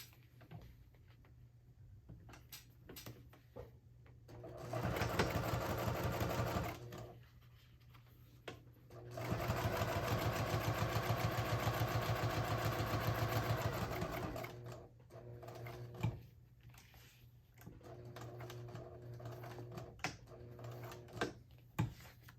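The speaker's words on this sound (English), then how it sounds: "then top stitch down this side at about 1/8 of an inch away from that center seam" A sewing machine top stitches a seam on a color block wristlet in two main runs of rapid stitching, with shorter bursts and quiet handling pauses in between.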